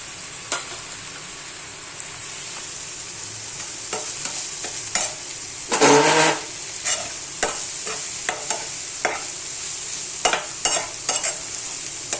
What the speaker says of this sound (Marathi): उलटा पालटा असं चांगलं भाजून घ्यायचं आहे, फ्राय होऊन द्यायचं आहे